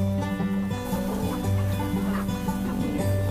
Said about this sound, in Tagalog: Ayan yung mga rooster.